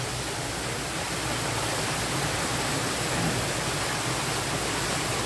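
Water rushes along a channel toward a resort pool, a loud, steady broadband wash close by, unbroken for the whole stretch.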